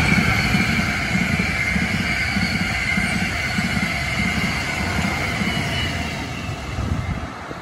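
An NJ Transit or Amtrak train rumbles past on a high-speed stretch with a steady low roar and rhythmic clatter of wheels on track, moderately loud and continuous throughout.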